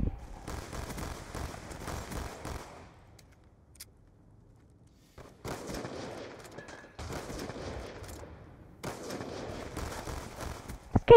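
Rapid bursts of video game gunfire in a free-for-all trickshot match, three loud clusters of automatic shots separated by short quiet gaps, with no talking.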